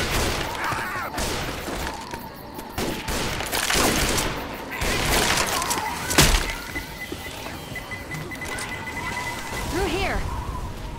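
Gunfire in the video game Left 4 Dead, a dense mix of rapid shots and bursts spread across the clip, layered with game effects and mixed alongside voices.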